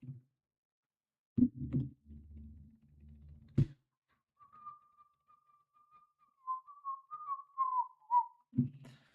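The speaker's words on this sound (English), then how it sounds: "whistling sounds horrible on stream" A single person whistles a sustained, wavering tune for several seconds, framed by a few short thumps and low murmurs before and after.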